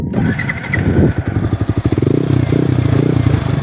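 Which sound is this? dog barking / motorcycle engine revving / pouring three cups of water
motorcycle engine revving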